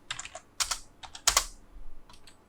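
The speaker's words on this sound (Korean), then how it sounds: "H를 입력하고 엔터 클릭" Keystrokes on a computer keyboard while entering an AutoCAD command: a few quick irregular taps, then clustered louder presses like Enter, close and alone with no talk.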